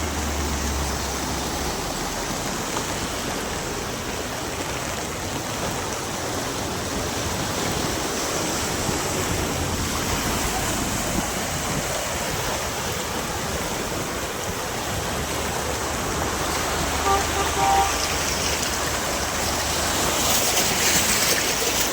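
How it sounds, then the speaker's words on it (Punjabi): Floodwater surges across a road in Barnala, Punjab, a constant loud, broadband rushing roar that grows slightly stronger toward the end, with no voices over it. "ਪਾਣੀ ਨੇ ਤਾਂ ਇੰਨਾ ਜ਼ਬਰਦਸਤ ਪਾਣੀ ਟੱਕਰ ਮਾਰਦਾ ਵਾ"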